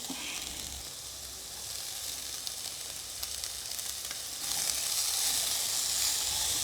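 Tomatoes hit hot oil coated with spices and chili powder, giving a steady, close frying sizzle that swells louder near the end as stirring continues, no voices.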